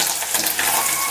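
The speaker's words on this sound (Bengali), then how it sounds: "পনিরটা একদম হালকা ফ্রাই করব, বেশি করব না, অল্প।" Paneer fries lightly in oil in a pan, a bright, hissing sizzle that stays close and steady for a brief moment.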